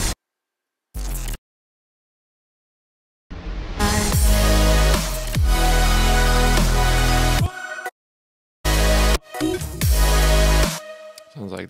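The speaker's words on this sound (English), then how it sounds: "with the exception of during the drop is some glitch effects here." Glitch effects in the drop of an electronic track: choppy stuttering cuts over heavy bass, broken up by abrupt dead silences and sudden restarts.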